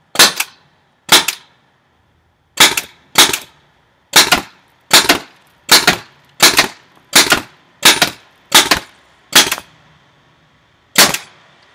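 A Tippmann TCR paintball marker firing CO2-powered shots, sounding as a dozen sharp, loud pops spaced at uneven intervals with silence between them.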